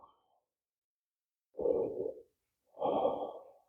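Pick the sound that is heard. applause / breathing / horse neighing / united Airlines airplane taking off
breathing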